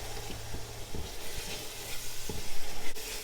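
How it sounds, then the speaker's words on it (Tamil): Onion and garlic sauté in a pan for biryani, a steady sizzle broken by repeated scraping stirs of a spoon against the pan, close and moderately loud with no talking. "ஆனியனும் பூண்டும் நல்லா வதங்கணும்."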